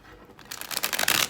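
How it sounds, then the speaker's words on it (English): Tarot cards being shuffled in a quick riffling burst, a crisp flutter of paper that builds and then stops, close up. "Let's do one more shuffle for Libra"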